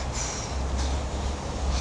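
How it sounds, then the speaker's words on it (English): A Seoul Metro Line 2 train passes overhead on an elevated section near Hanyang, producing a loud, continuous low rumble with rail squeal, close and steady for the whole moment. "This is the metro line above us, by the way."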